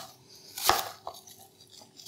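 A Henckels Elan knife chops a Fuji apple: one crisp, loud cut followed by a few lighter taps of the blade on the board, close and without talk.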